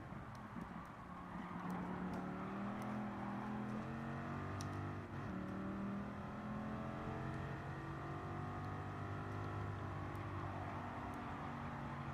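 Stock Dodge Viper race car in Gran Turismo 7, its engine droning steadily at high revs through a race, with gear shifts shifting the pitch; loud, continuous and alone, with faint clicks on top.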